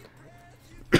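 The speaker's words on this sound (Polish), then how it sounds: "Mój kaszel." A single sharp cough bursts out near the end, loud and close, after a stretch of quiet room tone during a Minecraft gaming session.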